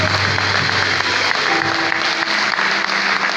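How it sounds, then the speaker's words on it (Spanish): Church congregation applauding loudly and steadily during a Sunday morning worship service, a dense wash of many hands with a low sustained tone under it, continuing without pause. "levante un aplauso fuerte para gloria a Dios"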